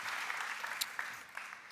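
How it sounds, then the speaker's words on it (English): An audience at a keynote applauds a gentleman up front, a short, moderately faint burst of dense clapping that tapers slightly toward the end. "Another round of applause for the gentleman up front."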